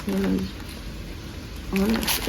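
A bird coos nearby in two short bursts, one at the start and one at the end, with people talking in the background.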